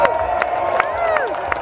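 Fans at the Silverstone British Grand Prix cheer in a dense, loud crowd roar, with whoops and shrill shouts rising over it and rhythmic claps cutting through about every third of a second.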